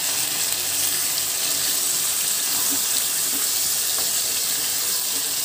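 Chicken liver frying in a pan, giving a steady, close hiss and sizzle that holds evenly throughout with no talk.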